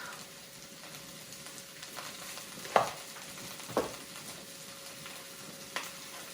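Purple cabbage frying over medium-high heat with salt gives a soft continuous sizzle, broken by a few brief louder stirring scrapes, fairly quiet and close with no voices.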